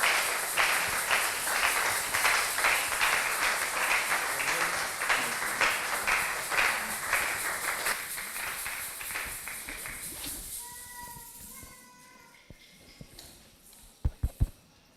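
A church congregation claps in sustained applause during a Sunday service, slowly fading away. A few last scattered claps sound near the end.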